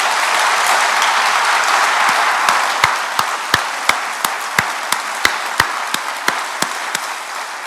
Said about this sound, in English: But Peter deserves an enormous round of applause.